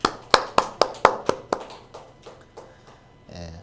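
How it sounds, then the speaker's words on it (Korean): Clapping during a Korean church Sunday service: about a dozen sharp, distinct claps in a rhythm that slows and fades, ending with a brief voice. "우리 하나님께 영광의 박수 한번 올려드리겠습니다."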